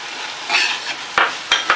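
Cabbage, peas and curry leaves stir-fried for poriyal, a steady sizzle under a few sharp scrapes and clinks of a spatula against the pan, close and fairly loud, with no voices.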